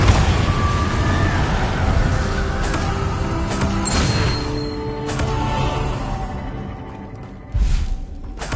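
Confringo fire-spell blasts in the Hogwarts Legacy video game, several booming explosive bursts and whooshes scattered through continuous battle noise, with a heavy thump near the end.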